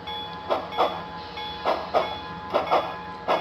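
Rhythmic chuffing bursts from a model articulated logging steam locomotive, paired double-firing beats repeating steadily over a faint high ringing tone.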